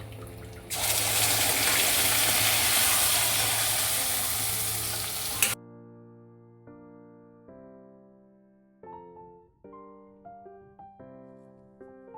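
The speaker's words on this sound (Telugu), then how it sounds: "అదంతా వేసి ఫ్రై చేసుకుందాం." Onion with ginger garlic paste frying in a pan, a loud continuous sizzle for several seconds that cuts off abruptly, followed by quiet tonal background music.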